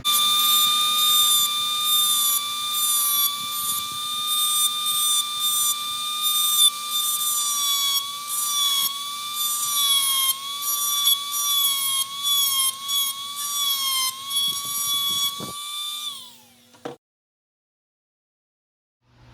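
Win-brand Dremel rotary tool carving a notch into a knife handle, a steady high-pitched whine that holds for about sixteen seconds, wavers slightly in pitch as it bites, then winds down and stops.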